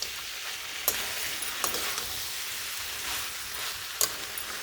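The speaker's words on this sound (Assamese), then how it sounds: "আৰু এতিয়া মাংসখিনিত মই ঢাকনি নিদিয়াকৈ ল' ফ্লেমত ভাজি থাকিম" Duck meat fries uncovered in a pan over a low flame, a steady soft sizzle with faint crackle and a few sharp clinks of stirring, quiet and close with no talking.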